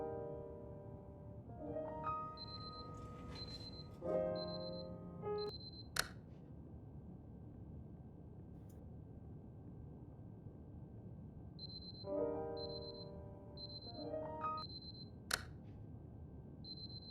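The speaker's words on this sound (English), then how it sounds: "Alarm clock." An alarm clock rings in the video game Superliminal as short, steady high beeps in spaced clusters over a low ambient hum, with a few brief tonal chimes mixed in.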